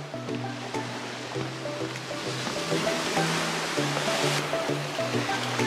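Waves washing along the rocky coast of a small resort beach in Zakynthos, a continuous broad rush of surf with a low steady hum running underneath.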